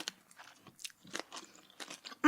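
Someone bites and chews a crunchy donut coated in lavender purple sugar, a series of close, crisp crunches and chewing sounds with no talking.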